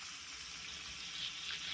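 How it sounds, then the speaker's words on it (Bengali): Masala paste sizzles steadily in a hot pan as it is stir-fried for a spicy Bengali brinjal jhaal, a soft close hiss with no voices. "মশলাটা নেড়ে চেড়ে কষিয়ে নেওয়া হচ্ছে, যাতে কাঁচা কাঁচা ভাবটা না থাকে।"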